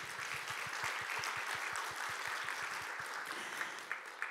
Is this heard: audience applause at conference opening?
yes